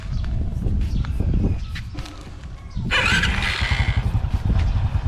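A Honda Wave 125s motorcycle with its stock exhaust idles and revs close by, giving a steady low engine chug with a brief rise in pitch partway through.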